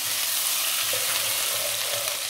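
Chopped ginger and garlic frying in hot oil for mutton korma, a steady close crackling sizzle with faint stirring scrapes beneath, no voices.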